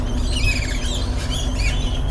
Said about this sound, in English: These birds are upset.